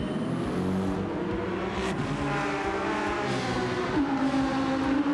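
Ferrari 458 GT3 race car engine in Gran Turismo 7 at a race start, a steady loud roar from inside the cockpit with engine pitch climbing and shifting as it accelerates, no voices.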